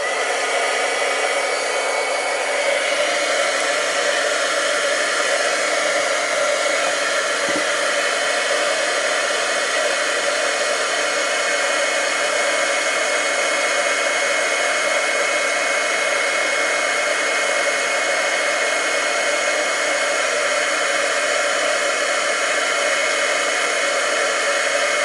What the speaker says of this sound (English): let me heat emboss this